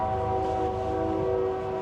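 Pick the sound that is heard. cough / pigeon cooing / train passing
train passing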